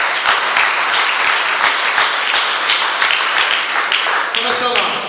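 Audience applause at a Brazilian church gathering, loud dense clapping filling the space steadily from start to finish, with a voice briefly audible near the end.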